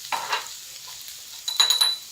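Potatoes cooking with spices in a pan on low heat, with two short bursts of stirring and scraping over a quiet, faint sizzle.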